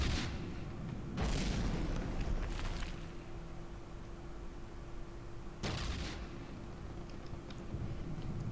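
Cannon fire booms against an armored target in From The Depths, with two or three heavy shots spaced seconds apart over a steady low game hum, at moderate loudness and with no speech.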